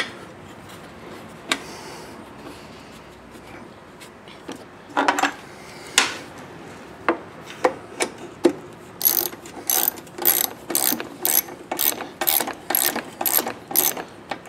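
A ratchet tightening a bolt on a Briggs engine fuel tank: scattered metallic clicks and taps at first, then a close, rapid run of regular ratcheting bursts toward the end.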